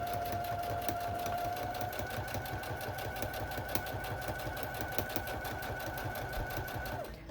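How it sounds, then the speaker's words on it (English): A sewing machine back stitching slowly over the zipper of a cork fabric pouch, running in a steady rapid mechanical chatter throughout, close and moderately loud, with a faint hum alongside. "I'm just gonna back stitch again really slowly a few times over the zipper"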